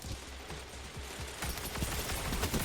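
The Sweet Business auto cannon in Destiny 2 fires after spinning up, a rapid stream of thudding shots that grows louder and denser partway through, heard up close without talking.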